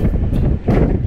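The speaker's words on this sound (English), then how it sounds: "Bloody windy one." Strong wind on a beach buffets the microphone in a steady, loud low roar with gusty surges, and no voices are heard.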